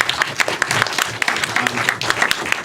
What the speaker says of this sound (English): can we just say a round of applause?